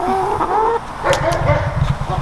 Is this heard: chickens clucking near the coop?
yes